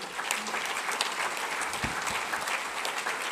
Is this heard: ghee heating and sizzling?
no